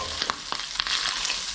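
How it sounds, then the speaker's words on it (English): Bacon and onion frying in a pan, a steady close sizzle with a few sharp crackles and spits. "Still got the bacon cooking away in the pan."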